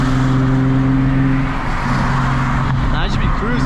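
A car cruising along a road, a loud steady engine and road rumble heard from inside the cabin, with a voice talking over it.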